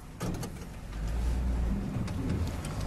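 A blue 1960 Chevrolet El Camino cruising along, its engine producing a steady low rumble that swells slightly as it pulls, heard from inside with some road noise and faint clicks.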